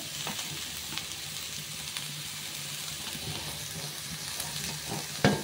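Shredded cabbage and mixed vegetables for a veg poriyal sauté in a pan, giving a steady, even sizzle with soft stirring scrapes and one sharper clack of the spoon near the end.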